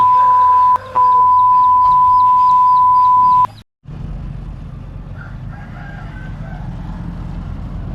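Domestic chickens kept on a rural Thai smallholding beside a road crow and cluck, with a long sustained crow in the first few seconds before a brief pause, then a steady outdoor background with faint distant fowl calls.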